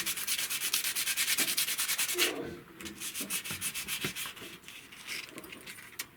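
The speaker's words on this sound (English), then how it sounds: "can you sand that till it's shiny?" A part is sanded by hand until shiny, rhythmic close back-and-forth rubbing strokes, fast and even at first, then slower and more irregular after a brief pause.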